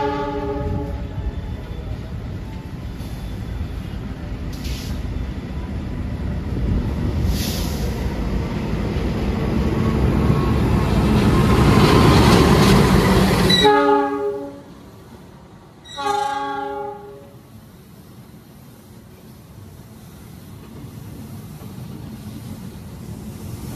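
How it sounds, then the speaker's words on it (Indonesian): The Argo Lawu executive train from Gambir to Solo Balapan rolls into a station with a loud, building rumble, then a long horn blast followed by a second short horn sounding after the rumble fades. "Yang baru masuk, ini adalah rangkaian kereta api Argo Lawu dari Gambir tujuan Solo Balapan lewat Jogja"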